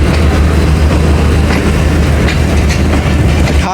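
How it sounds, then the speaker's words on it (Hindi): 13 Up Awam Express train rolls toward Gujar Khan railway station, a steady loud rumble with rhythmic clickety-clack of wheels over rail joints throughout, heard close and continuous. "गुजर खान रेलवे स्टेशन पे अप्रोच बना रही है 13 अप अवाम एक्सप्रेस।"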